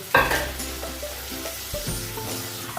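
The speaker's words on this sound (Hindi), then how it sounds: "ऑयल डाला है, अब इसमें प्याज डालेंगे" Onions dropped into hot oil for a chicken dish burst into a sizzle, then fry steadily with stirring clinks and scrapes, moderately close, with no talking.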